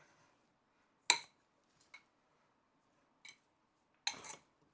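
Spoon scraping and clinking against a bowl while mixing lemon and sugar in a kitchen, a few sparse quiet taps and scrapes separated by near silence.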